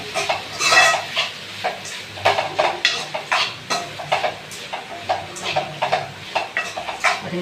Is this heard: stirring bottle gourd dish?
yes